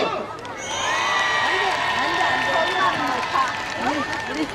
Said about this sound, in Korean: 함성 박수!